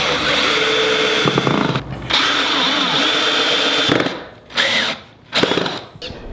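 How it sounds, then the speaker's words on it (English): A power drill drives screws into the wooden frame of a homemade keezer, whirring loudly in repeated bursts of a few seconds each, with short pauses and clicks between runs, close by. "we can go ahead and get the rest of these screws in here."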